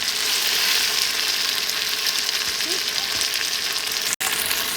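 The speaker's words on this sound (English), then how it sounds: "we want to get the tomatoes to turn mushy. So we're going to cook this for another minute or so" Tomatoes fry in a pot of one-pot mutton curry with a loud, even, continuous sizzle and a few faint stirring scrapes, broken by a brief cut near the end.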